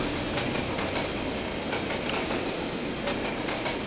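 A train in the Trainz railway simulator game rolls along steadily with a continuous rumble and faint rhythmic clicks of wheels over rail joints, with no voices.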